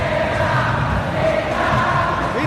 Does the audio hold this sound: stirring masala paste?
no